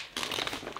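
Small plastic bags crinkling as they are handled, a close, bright rustle that starts abruptly and carries on for under a second with no voices.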